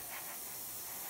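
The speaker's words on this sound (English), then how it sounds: "You see the airbrush hitting the camera there where I'm so bloody close." Close, steady airbrush hiss as paint sprays onto a Meng 1/35 Mk.A Whippet tank model, a dense unbroken rush of air lasting the whole moment.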